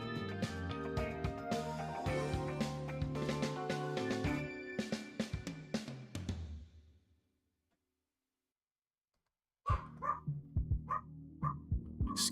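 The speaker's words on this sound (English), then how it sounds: "Excuse my dog, she's barking." A pet dog barks in rapid, loud bursts with some yips, falls silent for a few seconds, then starts barking again in a shorter volley of sharp barks close by.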